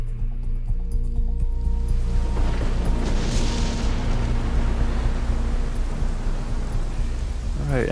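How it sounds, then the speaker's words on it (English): Steady rain at Mother Base in Metal Gear Solid V forms a dense, continuous hiss over a low rumbling bed, with a brief whooshing swell partway through and no voices. "it looks like it's started to rain"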